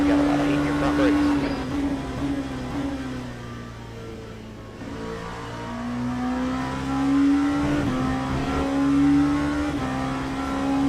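Race car engine in a sim racing game, revving up and easing off through corners, with a strong droning tone that dips midway, and a voice talking over it.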